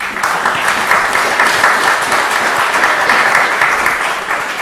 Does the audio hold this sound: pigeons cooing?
no